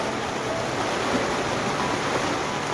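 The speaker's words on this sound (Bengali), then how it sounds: "বাঁশের কোল ঘেঁষে জল পড়ছে পুরো একদম উনুনের কাছে, এই দেখো" Rainwater pours steadily through a leaking roof beside a bamboo post and splashes down right next to a clay cooking stove in a home kitchen, making a constant loud rushing wash with no pauses.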